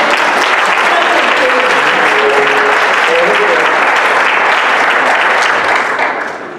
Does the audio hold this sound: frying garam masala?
no